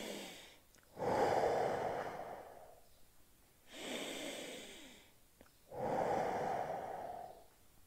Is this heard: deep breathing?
yes